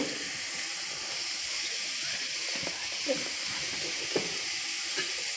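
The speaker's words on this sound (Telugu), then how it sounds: "ఈ ఆలూ ఫ్రైలోకి మనం కొద్దిగా సాల్ట్ కొద్దిగా పసుపు మిక్స్ చేసామన్నమాట ఇవి ఫ్రైగా అవుతున్నాయి చూడండి" Potato pieces frying in a pan with salt and turmeric make a continuous close sizzle, broken by a few soft stirring knocks, with faint talk in the background.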